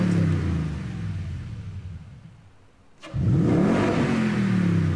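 A Toyota Tundra TRD truck engine in the racing game Gran Turismo Sport revs loudly and drops in pitch, goes briefly quiet after a sharp click, then roars back up into a rising, droning rev.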